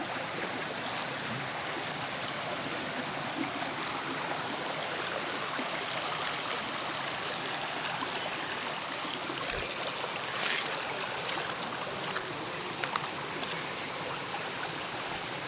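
A stream of water flows in a steady, broad rushing wash with faint trickling detail, continuous and fairly close for the whole stretch, with no talking.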